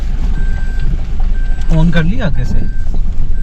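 Warning beeps from a Toyota Revo pickup on a steep mountain road on an off-road trip from Badgoi Top to Kalam, a faint steady electronic tone repeating in stretches beneath loud close talking and engine rumble.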